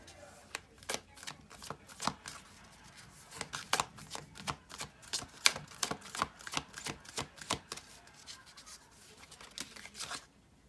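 Brand-new, slightly sticky tarot cards being shuffled by hand, a rapid run of crisp flicks and soft slaps in uneven bursts, close and fairly quiet, with a faint voice in the background.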